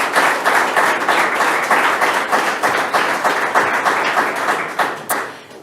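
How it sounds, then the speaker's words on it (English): Audience applause greets the newly introduced Siouxland Libraries director, a steady, full round of clapping from a room of people that holds for about five seconds before starting to thin out. "So give her a round of applause as I introduce Alicia."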